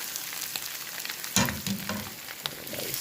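Shrimp dropped into a pan with browned garlic and ginger, a steady close sizzle that bursts louder as the shrimp go in, with stirring scrapes.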